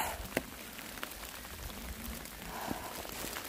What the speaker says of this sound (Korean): 너무 이쁘다, 빗소리가.